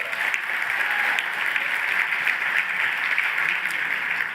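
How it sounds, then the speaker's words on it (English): Sustained applause from a conference audience after a panel session at a general meeting, steady and dense throughout with no clear break. "Please give our panel a round of applause"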